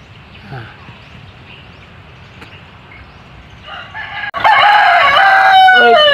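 Quiet background at first, then native chickens burst into loud, close clucking and squawking, ending with a rooster-like crow.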